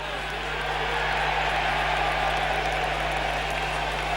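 Rugby league crowd at a Hull v Leeds match, a dense, steady roar of cheering and applause with a constant low hum underneath, continuing unbroken at an even level.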